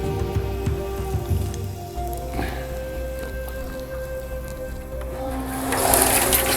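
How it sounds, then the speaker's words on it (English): A garden hose sprays water over a turquoise ore rock at the North Star Turquoise Mine, a steady hissing splash that grows louder and brighter toward the end. "I'm going to rinse this up a little bit."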